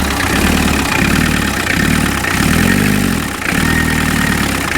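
An old fleet vehicle with one of its belts snapped idles loudly and close by, a steady low throbbing rumble with a slight dip in the rhythm near the end.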